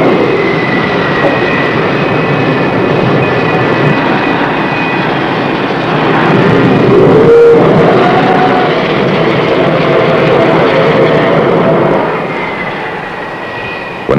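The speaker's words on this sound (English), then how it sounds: "like the sound of the F4 Phantom." An F-4 Phantom jet on carrier landing approach makes a loud, sustained engine roar with a steady high whine, swelling slightly midway and then easing off toward the end.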